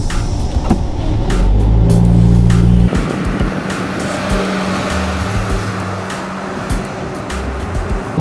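A light van, either a China Motors Veryca A210 or a Toyota Town Ace automatic, loaded with 850 kg, drones steadily as its engine strains up a long hill. The engine note stays loud and close throughout.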